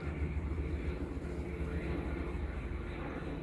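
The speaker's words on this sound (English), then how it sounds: "Here's that plane again, coming through." Firefighting plane flying overhead during bushfires, a steady loud low engine roar that fills the whole stretch without a break.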